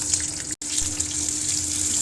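Potatoes dropped into hot oil in a heated wok set off a loud, steady sizzling hiss at close range, with one brief break.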